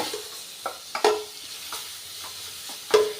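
Vegetables sizzle in a pan for a healthy breakfast recipe as a spoon scrapes and stirs them in short repeated strokes, frying crackle underneath, close and fairly loud with no talking.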